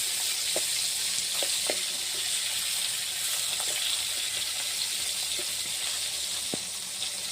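Fish pieces frying in hot oil give a steady, close hiss with scattered small pops and crackles throughout, and no talking.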